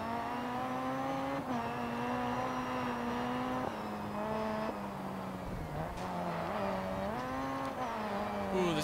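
Rally cars race in DiRT 4 during an RX2 event, engines revving up and dropping through gear changes in loud, continuous layered whines, with no talk.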